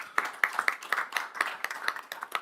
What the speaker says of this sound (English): just gonna give him a round of applause